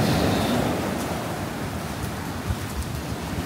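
Strong ocean surf rolls in as a continuous loud roar of breaking waves, with some wind buffeting the microphone and no voices.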